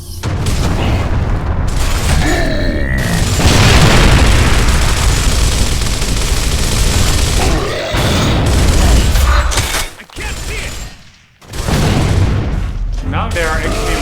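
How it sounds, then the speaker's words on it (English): Booming grenade explosions and heavy gunfire from the Gears of War video game, a dense, loud, continuous barrage with repeated blasts and a brief lull near the end before the din resumes. "Close emergency holes quicker by lobbing grenades into them."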